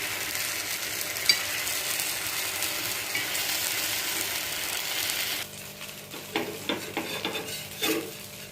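Millet dosa crisping in ghee on a hot griddle, a steady broadband sizzle for about five seconds that then drops away, leaving softer scrapes and clinks of a spatula.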